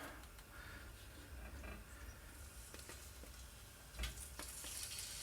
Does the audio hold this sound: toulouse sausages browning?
yes